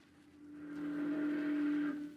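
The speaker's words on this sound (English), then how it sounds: "a steamboat," A steamboat sound effect from a 1942 radio drama: a low mechanical rumble, then a single sustained whistle blast for about a second before it cuts off, fairly faint.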